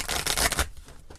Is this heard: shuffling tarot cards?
yes